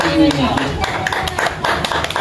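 Children clap at a kids' jam session, a short burst of scattered, uneven hand claps mixed in with children talking over the top.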